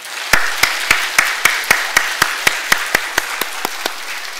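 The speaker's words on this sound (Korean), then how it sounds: "다 같이 한번 박수를 크게 해주시기 바랍니다" A church congregation at a Sunday service applauds a newly joined couple with a slow, even beat of sharp claps, about three per second, close and fairly loud with no talking.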